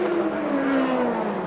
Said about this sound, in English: the BMW engine he's got behind him is probably the most powerful.